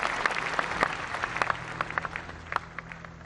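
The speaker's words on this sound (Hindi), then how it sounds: "जोरदार तालियों से इनकी हौसला अफजाई करें।" Audience applause at a DigiDhan Mela event in Delhi, a crowd clapping for a child participant, with many overlapping claps and a few sharper individual slaps standing out from the steady patter.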